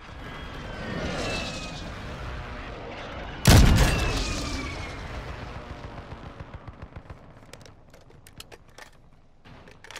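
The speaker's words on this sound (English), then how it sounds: "It was a big ass plane." A large airplane passing overhead in the shooter Call of Duty: Modern Warfare II, a roaring engine sweep punctuated by a heavy boom, then fading rumble with scattered distant gunfire-like cracks.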